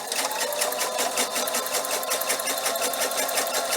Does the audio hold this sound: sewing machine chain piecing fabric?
yes